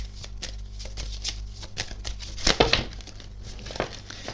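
A deck of astrology cards is shuffled quickly by hand at close range, giving soft, crinkly papery rustles and flicks with a few sharper bursts in the middle. No one speaks.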